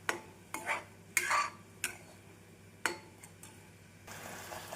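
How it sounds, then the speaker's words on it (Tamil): Sweet aval (flattened rice) with jaggery and grated coconut is stirred in a pan, making several distinct scraping strokes with metallic clinks, close and irregular, followed by a softer continuous sizzle. "நாம் தேங்காய் பூ சேர்த்து நன்றாக கிளற வேண்டும் வெள்ளமும் அவளும் சேர்ந்து நன்றாக மிக்ஸ் ஆகும் வரை நாம் கலக்க வேண்டும்"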